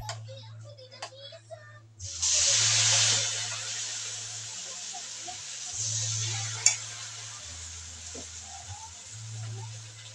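Sliced bananas frying in a pan give a steady hissing sizzle that swells after a brief stretch of talk, with a low hum running underneath.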